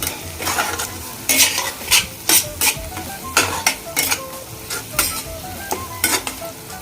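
Small fish pieces coated with chili powder fry in a pan for fish pulusu, stirred with a spatula in a quick series of sharp scraping strokes over a continuous close sizzle, with no voices.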